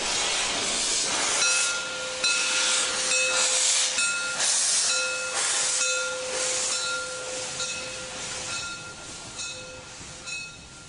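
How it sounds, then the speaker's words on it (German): A century-old Molli steam train, locomotive 99322 with carriages built 1902 to 1926, stands waiting at a station and gives off a continuous loud hiss of steam, with short repeated tonal hums pulsing over it. "Der 100-jährige Zug wartet auf die Ankunft des Planzuges aus Bad Doberan."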